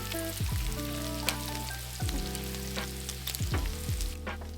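Red onions and bacon sizzle steadily in a pan while a utensil stirs and scrapes across the bottom, with several sharp knocks and scrapes standing out over the continuous frying hiss. No one speaks.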